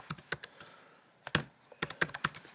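A computer keyboard being typed on as a search query is entered, close and fairly quiet, with uneven bursts of clicky keystrokes separated by short pauses and no voices.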